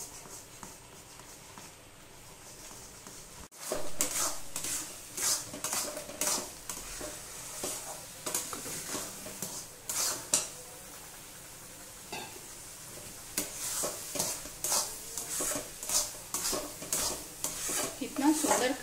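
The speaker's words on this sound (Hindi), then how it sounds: "अब हम तेज फ्लेम पे इसे कंटिन्यू चलाते हुए" Water chestnut flour barfi mixture, cooked with sugar, is stirred continuously in a pan over a high flame, giving rhythmic scraping and thick bubbling sizzles after a quiet start, close up, with no voices.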